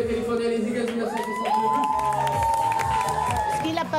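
Karaoke restaurant crowd cheering and clapping, loud and continuous, with shouts and whoops over sustained music tones.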